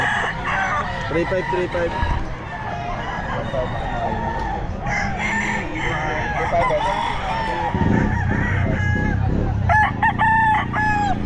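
Bullstag roosters crow repeatedly at a crowded Bocaue pet market, loud and overlapping, with clucking fowl and people talking throughout.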